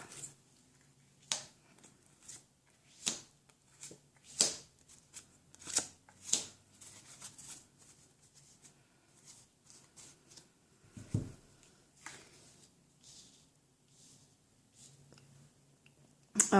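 Tarot cards are handled and shuffled close up in a quiet room, with soft riffling, sliding and tapping in irregular bursts across the whole stretch.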